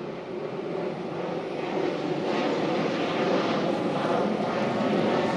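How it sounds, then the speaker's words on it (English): A propeller airplane passes overhead, a broad steady engine roar that swells slightly louder as it nears, with no other sounds over it. "Communities filled with airplanes that are going back and forth, that's okay."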